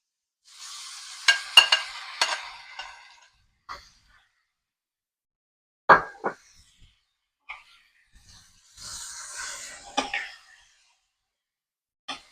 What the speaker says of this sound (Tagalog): At akin mo siyang hahalo-haloin. Para lumasa yung bawang at sibuyas sa giniling.